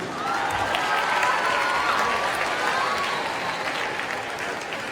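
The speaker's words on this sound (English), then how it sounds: "Big round of applause first for the dance judges." Steady audience applause at the 2017 FDF awards ceremony for Greek dance, a broad wash of many hands clapping at moderate distance with some faint crowd voices beneath, continuing evenly throughout.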